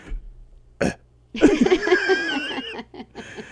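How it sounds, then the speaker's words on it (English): A single loud burp rings out, followed by some short laughing sounds nearby. "Sure sounds like a burp to me."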